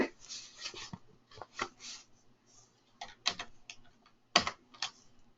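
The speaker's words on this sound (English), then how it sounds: "let me type out one here using the equation function again" Computer keyboard typing while entering a math equation with an equation tool, in irregular bursts of close, moderately quiet key clicks separated by short pauses.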